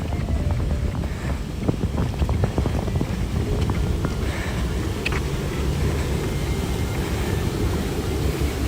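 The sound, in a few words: light wind breeze outdoors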